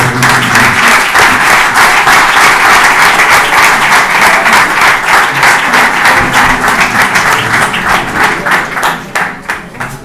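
A crowd at a bullfighting awards event claps loudly in a thick, continuous burst, its rhythm slightly pulsing, lasting about ten seconds before the clapping starts to break up and fade near the end.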